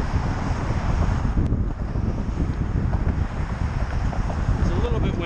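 Heavy wind buffeting the microphone while biking across the Triboro Bridge, with a constant low rumble and roar, blustery and loud throughout.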